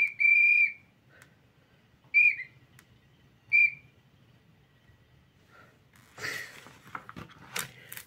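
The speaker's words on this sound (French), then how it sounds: "Tu ne trouves ça pas chouette, mon sifflet? Pourtant, il marche très bien" A child's toy whistle gives three short, shrill blasts, each under a second, spaced about a second and a half apart, followed by a quieter stretch and then a burst of broadband rustling and scraping.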